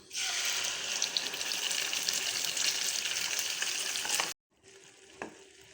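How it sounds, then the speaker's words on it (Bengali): Mustard seeds and curry leaves crackle and sizzle steadily in hot oil for a dosa chutney, a dense bright frying hiss that cuts off abruptly, then resumes more quietly as chutney is added to the pan. "এখানে আমার সরষে কড়ি পাতা ভাজা ভাজা হয়ে এসছে। এবার আমি চাটনিটা দিয়ে দেবো।"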